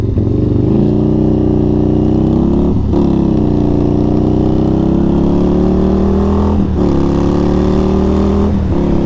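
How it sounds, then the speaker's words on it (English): An Indian FTR 1200 motorcycle engine drones steadily with a deep, throaty exhaust note, dipping briefly a couple of times as if shifting gears, without any talking. "Try and get that exhaust note in there"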